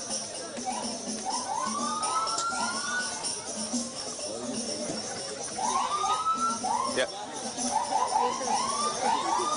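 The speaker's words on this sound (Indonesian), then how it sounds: "sejumlah sirine terus masih." Sirens of escort vehicles in a presidential candidate's motorcade, repeated rising wails overlapping one another against crowd noise, with a voice speaking over them.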